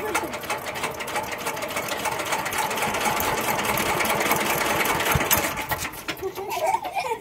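Someone tries to start a van engine: a dense, steady mechanical rattle and clatter runs continuously for several seconds, close and fairly loud, fading slightly near the end.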